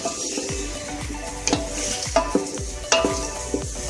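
Tomatoes stirred into frying ginger-garlic paste for aloo matar yakhni pulao, a steady close sizzle punctuated by repeated spoon knocks and scrapes against the pot.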